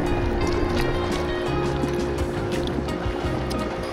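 A small boat pushing out against ocean waves, with a constant loud engine drone and rushing water and wind close by throughout.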